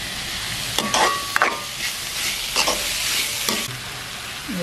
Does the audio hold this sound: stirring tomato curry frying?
yes